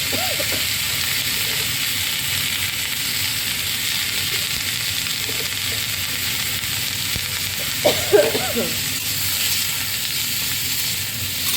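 Bottle gourd stems frying in oil with salt and turmeric, a dense steady sizzle and hiss close by, with a few faint clinks of stirring.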